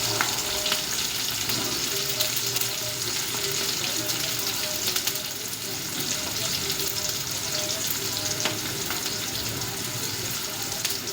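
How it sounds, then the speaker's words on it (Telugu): Chopped ivy gourd curry ingredients with curry leaves fry in hot oil, giving a steady, close crackling sizzle that lasts throughout with faint stirring clinks. No talk is heard. "ఇది కొంచెం ఎర్రగా అయ్యేటట్టు వేయించుకోవాలండి"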